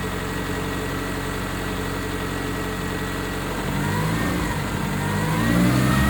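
A Chevrolet Corsa Win 1.6 engine idling close by, then revving up steadily toward the end, loud and continuous with no talk.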